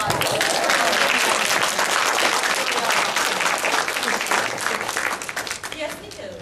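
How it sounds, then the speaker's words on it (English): A hospitality meeting breaks into a round of applause: loud, dense clapping from a roomful of people, sustained for several seconds before tapering slightly near the end. "let's give them a round of applause"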